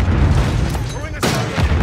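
Grenade blast in Warzone 3 during squad play, heard as loud booming bursts amid a dense, noisy battle mix, with players talking over it.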